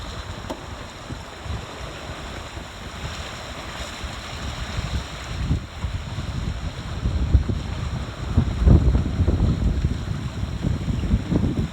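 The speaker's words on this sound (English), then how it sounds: "the wind picked up and shifted aft" Wind rushes past a 15 foot sailboat running downwind in an inlet. A low, buffeting roar with boat and water noise builds and grows louder and gustier toward the end, with no voices.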